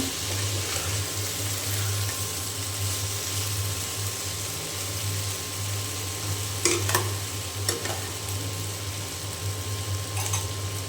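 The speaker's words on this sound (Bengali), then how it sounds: "ভালো করে আমি নেড়ে চেড়ে দেবো।" Thin masoor lentil dal being stirred while it cooks, a steady low simmering bubble with a few brief scraping clinks of a spoon against the pot, no voices.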